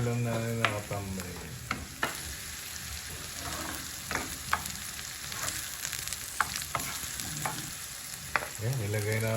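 Onions frying in a pan give a steady close sizzle, broken by sharp clinks and scrapes of stirring scattered throughout, with no talking.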